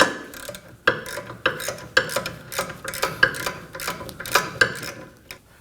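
A ratchet with a 12mm socket loosening a caliper bracket bolt on a 2011-2016 Kia Optima rear brake. Repeated bursts of fast metallic clicking come in steady strokes roughly every half second to a second, close and crisp, with no talk.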